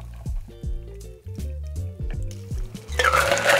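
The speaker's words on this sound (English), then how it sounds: "we are going to fine strain this to keep out any chunks of ice" A Foe Hammer cocktail is fine-strained into a glass to hold back ice chunks: a series of gurgling, glugging liquid pulses, then a brighter, hissing pour at the end, close and clear.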